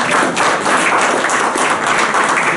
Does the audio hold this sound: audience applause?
yes